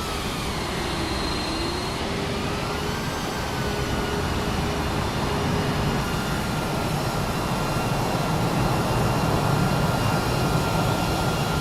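An airplane in Microsoft Flight Simulator 2024 takes off, its engines producing a loud, steady roar with whining tones that drift gradually upward, continuous throughout with no talk.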